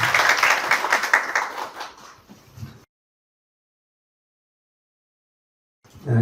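An audience claps for a presenter at a startup demo day, a burst of applause that tapers off and cuts to silence before a brief loud return at the end.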